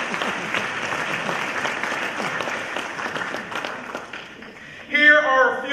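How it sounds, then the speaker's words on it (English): An audience at a university Martin Luther King convocation claps in a sustained round that fades toward the end, before a voice speaks over the last of it. "Y'all clap."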